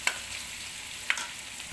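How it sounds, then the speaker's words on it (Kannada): Cauliflower florets frying in oil in a pan, a steady soft crackling sizzle with two brief sharp clicks of stirring against the pan, heard close and alone. "ಚೆನ್ನಾಗಿ ಫ್ರೈ ಆಗ್ತಾ ಇದೆ."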